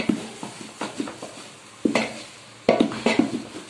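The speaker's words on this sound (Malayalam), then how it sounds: "ഇനി ഇതെല്ലാം കൂടിയിട്ട് നന്നായിട്ടൊന്ന് ഇളക്കി കൊടുക്കുക." A spoon stirs chicken and potato samosa filling in a pan, with irregular close scraping strokes against the metal and a faint sizzle beneath.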